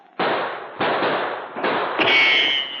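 A volley of four sharp gunshots fires in a radio-style drama, each crack close and loud with a short hissing tail, evenly spaced about a second apart with no voices over them.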